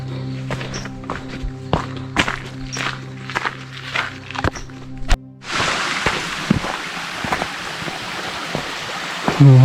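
A small water stream flows through jungle on a waterfall hike in Sri Lanka; footsteps crunch on the trail at first, then a steady, fairly close rush of water takes over.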